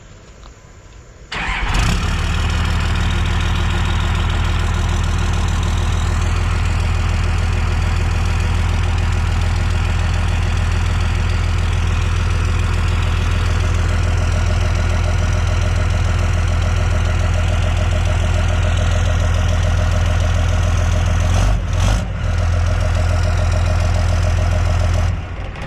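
A 3rd-gen Cummins diesel truck engine with a P-pump and massive 5-inch exhaust idles loudly and steadily with a deep, rumbling exhaust drone that holds constant from start to finish.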